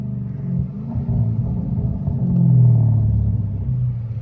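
A Dodge Hellcat being driven, heard as a deep, steady engine rumble from inside the car that swells briefly as the car picks up speed.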